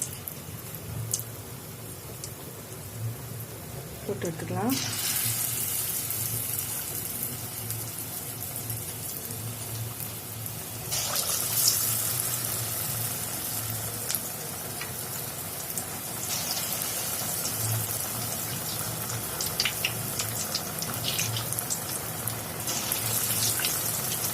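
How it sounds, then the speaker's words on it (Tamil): Potato bondas frying in hot oil in a kadai: a steady, dense bubbling sizzle like rain, with a sharper hiss surge as batter drops in around five seconds and again near eleven, continuous and close, no talk. "கடாயில் காய்ஞ்ச உடனே நம்ம இப்போ போண்டாவை நம்ம போட்டு எடுத்துக்கலாம்."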